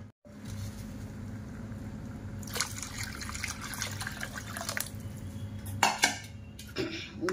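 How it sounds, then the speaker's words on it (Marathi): Water is poured into a pot of sambar with green chili, tomato and salt, a soft splashing rush that comes in bursts between quieter stretches, with a few clinks of the pot and a low background hum. "आता आपण याच्यामध्ये पाणी टाकूया."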